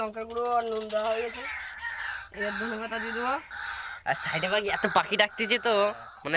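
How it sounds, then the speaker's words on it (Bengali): Birds call loudly and repeatedly nearby in winter, harsh cawing and squawking cries that come in bursts, with some talk mixed in. "শীতকালে বেশি পাখি আওয়াজ ডাক পাখি ডাকছে একদম"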